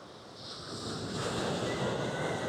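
Ocean waves wash steadily onto a beach on Kauai, Hawaii, a soft continuous surf that swells louder midway, with some wind noise and no talking.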